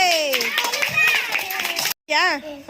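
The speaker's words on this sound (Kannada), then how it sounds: "ವೆರಿ ಗುಡ್, ಚಪ್ಪಾಳೆ" A group of UKG schoolchildren claps in a classroom, the sharp hand claps running under loud, excited children's voices and talking.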